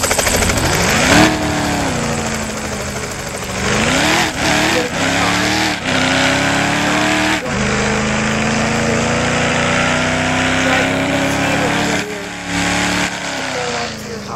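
A car driven in the Roblox game ERLC: a loud, steady engine drone whose pitch climbs and dips through repeated gear changes and revs, running continuously and close, with no talking.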